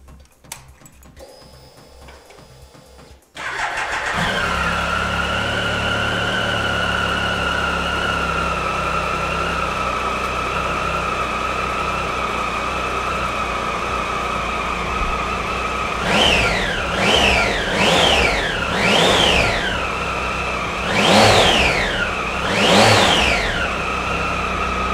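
A Triumph Tiger Sport 1050 motorcycle engine cranks and catches, settles into a steady loud idle, then is blipped through several quick revs, with no talk.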